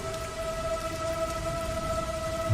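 Steady rain falls outside a room window, a continuous even hiss with a faint tonal hum underneath and no voices.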